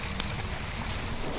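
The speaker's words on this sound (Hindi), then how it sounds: "पुरानी यादों में खोए हुए मैं इस बारिश को देख रहा था।" Rain falls steadily in a brief, faint wash of even hiss with no voices.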